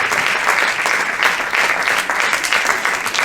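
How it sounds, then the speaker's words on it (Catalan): Sustained audience applause at a Catalan film festival session, dense steady clapping from a full crowd that rises and falls slightly over about three seconds, close and loud with no talk on top. "Y ahora, torneo a aplaudir, venga, va."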